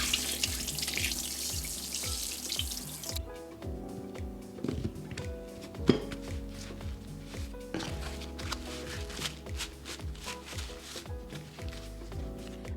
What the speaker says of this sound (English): Rinse the salt and dry with a kitchen towel or cloth.